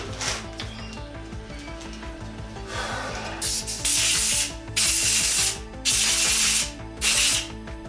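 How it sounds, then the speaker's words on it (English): Hand filing on a metal lamp part clamped in a vise, steady rasping strokes in regular bursts, loud and close, with machinery hum underneath. "I'll just stick it in the vise and file it"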